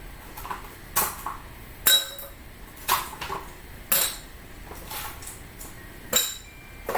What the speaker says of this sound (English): So we're just going to throw some ice in the glass here.